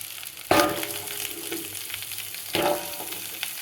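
Marinated chicken frying in a home kitchen pan, with a steady low sizzle broken by two sharper bursts of spitting oil as pieces drop in, fairly close and no talk.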